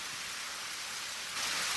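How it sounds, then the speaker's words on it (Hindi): Steady rain pours in an animated series, a dense, even hiss that swells slightly louder toward the end, with no voices. "लगता है बारिश के बाद तेज तूफान आने वाला है।"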